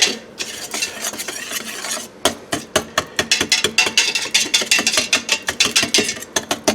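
Sugar and pectin for tomato sauce are mixed together, a spoon scraping briskly around a bowl in a fast, even rhythm of gritty strokes, close and clear, after a brief continuous stir at the start.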